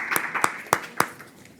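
A few people clap for a participant stepping forward, a handful of sharp, close hand claps in a loose uneven rhythm that thin out and fade within a second or so.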